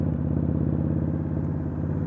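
A motorcycle fitted with Vance & Hines quiet baffles idles steadily, its exhaust giving a deep, even, pulsing rumble that stays loud and close throughout, with no voices.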